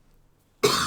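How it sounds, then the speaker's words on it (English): A single harsh cough bursts out suddenly after a near-silent pause, loud and close to the microphone. "I am sorry about the coughing."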